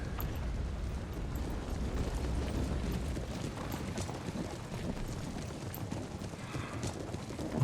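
Dense, continuous hoofbeats of several cavalry horses galloping in the video game Empire: Total War, a steady rumbling patter that fills the whole stretch without pause.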